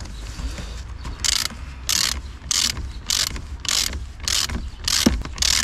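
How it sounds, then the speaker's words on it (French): Ratchet tightening the small negative battery terminal bolt on a Renault Clio 4, heard as a regular series of about eight short bursts of clicking ratchet strokes, close and fairly loud over a low background hum. "une fois que vous avez replacé la borne négative, vous allez serrer le petit boulon"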